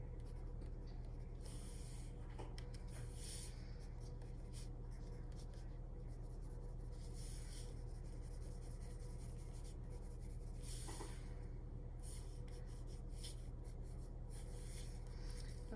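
Pencil scratching on paper while sketching a Nike logo onto an outfit drawing, soft repeated strokes in short bursts over a steady low background hum, close and quiet, with no talking.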